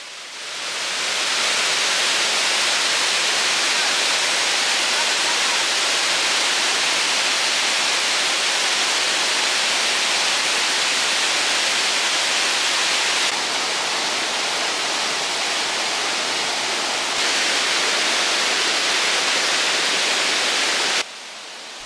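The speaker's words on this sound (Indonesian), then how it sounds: "Aliran di air terjun ketiga lebih deras dari apa yang kita perkirakan sebelumnya." Third tier of the Limoli waterfall pouring heavily in rainy season, a steady broadband roar that holds loud and unbroken throughout, with no voices.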